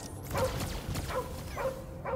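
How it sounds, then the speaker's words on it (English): Dog in the Guardians of the Galaxy video game giving four short barks spaced roughly half a second apart, fairly faint under a dense wash of game sound. "we gotta save the dog."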